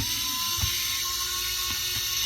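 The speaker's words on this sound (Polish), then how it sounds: "No spróbujemy, no wykręcę te śruby jeszcze dwie." A screw is backed out of a Manta SPK 440 speaker with faint ratcheting clicks from a screwdriver over a steady electrical hum and hiss, close and without speech.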